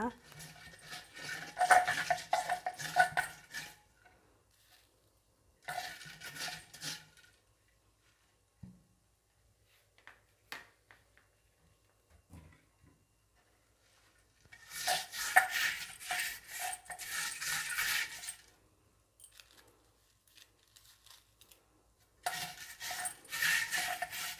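An old clay pot is scrubbed inside and out with rock salt, giving bursts of gritty, rasping scraping separated by quiet pauses, moderately close.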